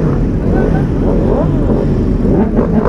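Group motorcycle rideout, with a steady loud rumble of engines and heavy wind noise as bikes ride along, near and continuous.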